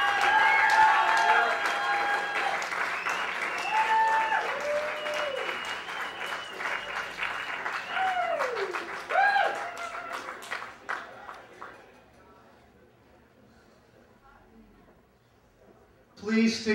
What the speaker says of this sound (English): Let's have a huge round of applause for our finalists tonight.